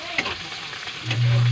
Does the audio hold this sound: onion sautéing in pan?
yes